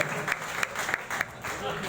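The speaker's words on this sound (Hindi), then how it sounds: "बहादुराना तालियां जोरदार" Audience clapping after a song at a live music gathering in Hyderabad, a short burst of rhythmic, fairly close claps with regular sharp accents, mixed with crowd noise.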